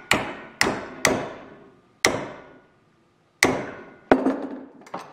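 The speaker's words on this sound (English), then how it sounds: "Tap it until you're happy." Metal aileron hinge tabs on a Bearhawk experimental airplane are tapped into line in a vise, giving seven sharp, ringing hammer strikes at uneven intervals, close and clear, with brief decays between hits.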